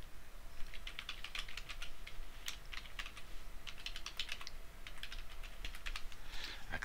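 Typing on a computer keyboard while entering a password, with rapid irregular clusters of key clicks close up and no voices.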